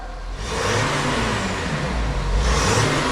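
A 2018-era Audi A7 3.0 TDI diesel with a custom Powerflow exhaust and no DPF revs hard, a loud, steady deep rumble building and holding close by for about three seconds, with no talk over it.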